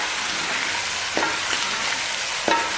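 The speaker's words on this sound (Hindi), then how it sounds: "अब मैं इसमें चिकन डाल दूँगी, इसको अच्छे से फ्राई करना।" Chicken fries in a pan with masala, giving a continuous close sizzle. Two or three soft clinks from stirring break through it.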